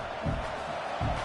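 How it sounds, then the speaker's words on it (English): Football stadium crowd roaring as the defense tries for a stop near the goal line, a broad sustained roar with two surging swells of cheering, distant and dense. "the crowd really making some noise now, trying to help out this defense to get this stop near the goal line"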